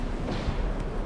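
A grenade explosion in the video game Stalker 2, heard as a short, dull, rumbling blast with no voices over it.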